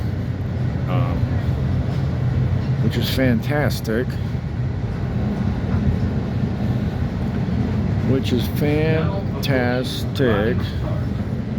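Constant low rumble and rattle of a moving Metra commuter train carriage between Wilmette and downtown Chicago, with a person talking intermittently over the steady noise.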